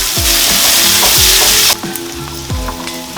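Sliced onions fry in oil in a pan until golden while being stirred, a loud steady sizzle punctuated by repeated scraping stirs, close up, with no talking.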